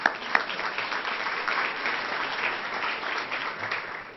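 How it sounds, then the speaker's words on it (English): Continuous applause from an audience at a club luncheon forum, many hands clapping in a steady, even wash at moderate distance, a couple of louder claps at the start, with no talk. "I think that deserves another round of applause."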